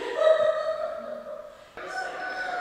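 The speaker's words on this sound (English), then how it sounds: "I didn't even hear any of that besides the rooster crowing" A rooster crows in one long drawn-out call that fades near the end, followed by a second crow starting, sounding moderately close with no talk over it.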